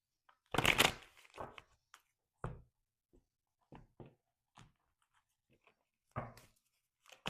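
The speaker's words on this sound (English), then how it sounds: "now we're going to take out a card from Archangel Michael, 2 cards" Oracle cards being shuffled and drawn from a deck, with a brisk riffle at first followed by scattered soft flicks and taps of cards, close and quiet.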